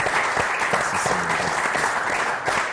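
Church congregation clapping steadily after a sermon, a dense, continuous wash of applause from many hands filling the space.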